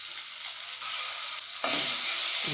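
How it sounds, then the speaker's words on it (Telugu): Chopped green chillies and ginger garlic paste hit hot oil, giving a steady hiss that swells into a louder, brighter sizzle partway through, close and with no talking. "ఇప్పుడు మనము ఈ సన్నగా తరిగిన పచ్చిమిర్చి వేద్దామండి. కొంచెము అల్లం వెల్లుల్లి పేస్ట్ వేస్తాను."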